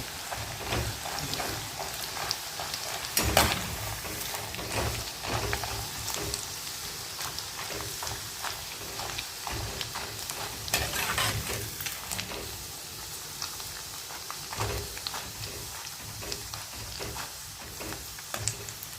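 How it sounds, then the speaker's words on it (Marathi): Sago sandge fritters deep-fry in hot oil, giving a continuous, crackling sizzle at a steady, moderately loud level, with occasional sharper pops and stirring scrapes. "सांडगे घाला. तेलात बसतील तेवढेच घाला, ते जास्त घालायचे नाही."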